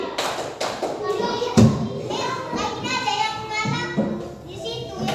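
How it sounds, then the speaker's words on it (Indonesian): Children in a classroom clap along to a counting game, sharp grouped hand claps in short bursts amid lively kid voices and an adult leading aloud. "tepuk sekali, tepuk 2 kali, 4 kali"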